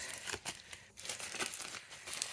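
Wax paper being crumpled by hand for embossing, a close, continuous crackling and crinkling with brief sharper bursts and no talking.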